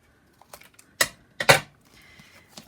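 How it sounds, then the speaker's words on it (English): Scissors snip through cardstock while a paper tag is trimmed for a handmade tag book, giving two sharp close cuts about half a second apart, a fainter snip after them, and small handling ticks in between. "take my scissors, and I'm going to cut that"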